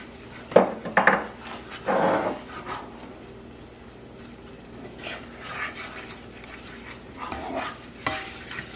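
Flour is stirred into turkey pot pie filling in a cooking pot: a few distinct scraping strokes come close and fairly loud early on, then lighter, intermittent stirring scrapes continue more quietly.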